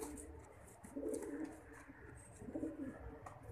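A pigeon coos in soft, repeated low rumbling phrases, faint and close over quiet background noise.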